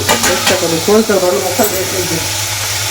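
Apple pieces fry in a pan for a Telugu apple roti pachadi chutney. A continuous sizzle with stirring runs under a person talking, and the frying carries on alone toward the end.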